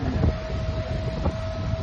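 Low, steady rumble of a moving, crowded train with a faint sustained whine, continuous and fairly quiet, no talking.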